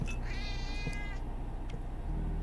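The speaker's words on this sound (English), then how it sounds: "Oh, we have a cat." A cat lets out a drawn-out, wavering meow with a rising tone, fairly close, over a constant low hum, followed by a faint short noise and then quiet background.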